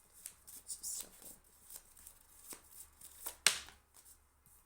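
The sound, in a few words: shuffling tarot cards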